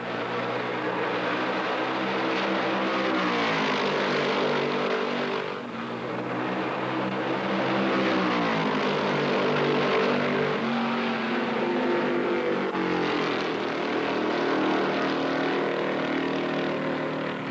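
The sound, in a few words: Ford stock cars racing at Darlington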